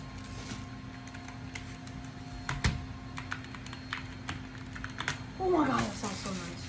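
Rapid clicky keystrokes from a brand-new Apex Pro Mini mechanical keyboard, close and steady, with a brief voice reacting near the end.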